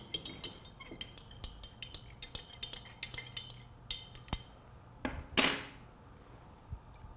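An oil mixture is stirred in a glass beaker during a science lesson on mixtures, producing a quick, rhythmic series of light glassy clinks and taps, followed by a louder scrape near the end.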